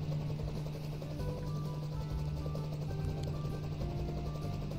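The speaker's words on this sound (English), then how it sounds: "I'm glad there's a new helicopter in town" Helicopter in the Township mobile farming and town-building game: a steady whirring drone holds evenly throughout, with faint tonal game music under it.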